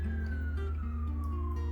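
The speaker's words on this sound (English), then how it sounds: "Sorry about the sirens, like I said." A distant siren wails with a slowly falling pitch over steady low big-city traffic rumble, continuous throughout, from a hospital down the street.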